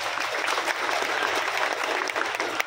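An audience at a gathering addressed by ministers claps steadily, a dense patter of many hands at moderate distance that holds without pause for the whole short stretch.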